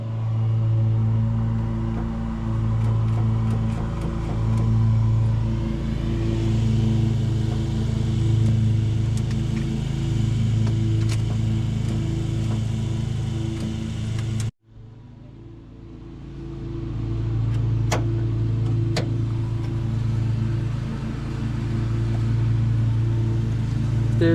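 A 1993 Ford F150 pickup that sat for decades cranks and turns over, a loud pulsing mechanical churn in one long run, a sudden brief stop, then a second stretch of cranking.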